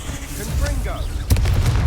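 The Confringo explosive spell in the Hogwarts Legacy video game goes off as a sudden, fairly loud fiery blast, preceded by a voice.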